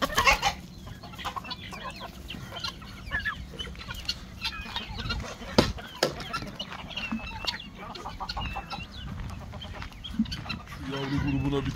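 Village chickens on a farm cluck steadily all around, with overlapping calls from several hens near and far and a constant low background bustle.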